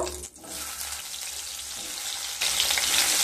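Medium potato pieces frying in oil just used for fish, a continuous crackling sizzle that grows noticeably louder partway through, with no talking.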